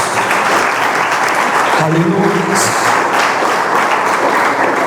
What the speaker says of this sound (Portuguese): Aplaude e glorifica a Deus.